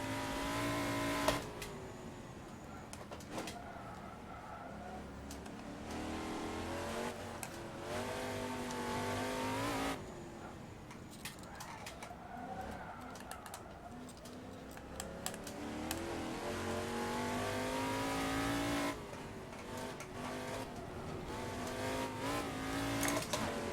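A race car engine screams around the Nürburgring in a racing game, revving up through gears with repeated rising pitch sweeps and abrupt cuts at shifts, sustained and loud with no talk.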